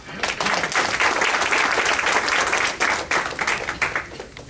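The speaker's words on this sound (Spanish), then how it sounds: "Un aplauso para él, por favor." An audience at a talk on post-extractivism in the Andes applauding, a warm, steady wash of many clapping hands held for several seconds before gradually thinning out.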